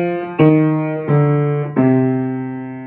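Trumpet plays a short exercise phrase, three sustained notes each cleanly attacked and slowly fading, solo and fairly close with no voices.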